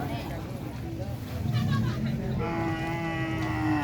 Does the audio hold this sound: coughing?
no